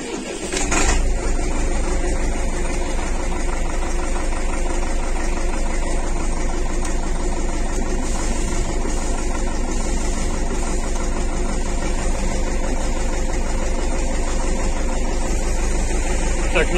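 A diesel engine on an MTZ-82 tractor runs at a steady idle after starting once the glow plug cycle ends, a loud, continuous low rumble with knocking texture filling the whole stretch close to the microphone.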